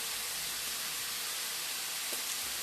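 Steady broadband hiss of cabbage sizzling as it is stir-fried in a pan, for Jamaican stir-fried cabbage, continuous and even with no talk.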